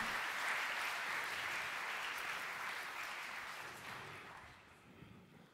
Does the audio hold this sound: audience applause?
yes